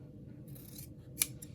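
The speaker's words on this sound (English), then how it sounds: "I find it's just as quick just to grab my my large pair of dressmaker scissors" Large dressmaker scissors slice through quilting fabric in a quiet room, a soft rasp of blades followed by one crisp closing snip, heard alone.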